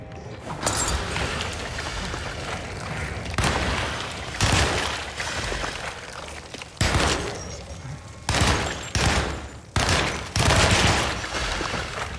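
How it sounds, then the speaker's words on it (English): Tommy gun fire in the video game Alone in the Dark, loud repeated bursts of automatic shots in a fast rattling rhythm, separated by brief pauses, close and steady throughout. "Tommy gun's actually not bad."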